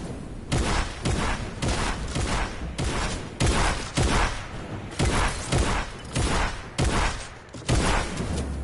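Gunshots in an online multiplayer shooter crack out in a steady run of loud, close, evenly spaced bangs, roughly two per second, with brief gaps between them.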